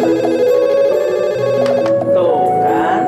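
A telephone rings with a steady, continuous electronic tone throughout, fairly loud and close, with a faint voice and a clatter near the end.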